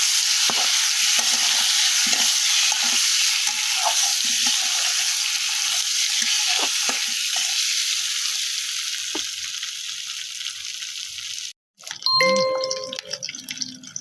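Eggs fry in a pan in a Bangladeshi village kitchen with a loud, steady sizzle and scraping stirs. The sizzle fades toward the end, and a few clanks and clatters follow.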